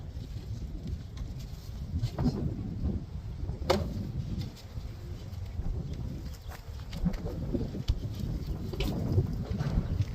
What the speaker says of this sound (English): the wind's not helping us. Right, yeah. It's just always windy out here.